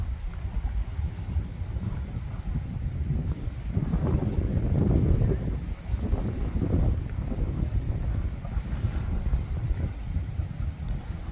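A boat runs across open water in strong wind, giving a loud, continuous rushing roar with heavy wind buffeting on the microphone that swells in the middle and then eases off slightly.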